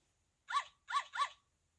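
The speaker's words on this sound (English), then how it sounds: "puppy" A puppy gives three short, clear barks in a quick run, close and alone against silence.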